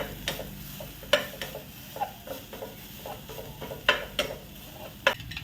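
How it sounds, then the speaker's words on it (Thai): Garlic frying in about two teaspoons of oil in a pan for a cha-om omelette, with soft sizzling under scattered spatula stirs and clinks against the pan, close and fairly quiet. "ก็ใส่น้ำมันประมาณสองช้อนชา แล้วก็เจียวกระเทียม"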